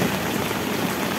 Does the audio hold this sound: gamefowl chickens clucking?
no